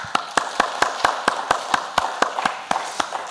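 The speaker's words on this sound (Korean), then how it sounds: "우리 하나님 앞에 감사와 영광의 박수 한번 올려드립시다" In a church, sharp claps keep a steady beat, about four per second. The clapping is moderately close and clear over a low murmur of room noise.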